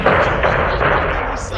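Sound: rocket fire in the video game Modern Warfare 2

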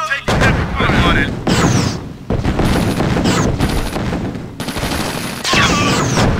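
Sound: gunfire in battle, from video game C&C Tiberian Sun

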